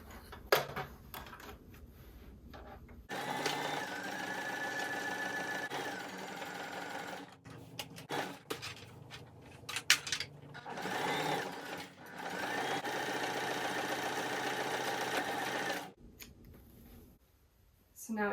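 A sewing machine stitches a seam on boxer shorts in long continuous runs of steady whirring, broken by pauses filled with handling clicks and rustles of fabric.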